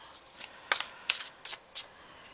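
A deck of tarot cards being shuffled by hand, soft riffling bursts at an uneven pace, close and quiet with no voices.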